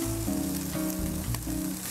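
Meat seasoned with turmeric and salt sautés in a pan for a zucchini noodle dish, a steady close sizzle with soft stirring, under a light tonal backing and without speech.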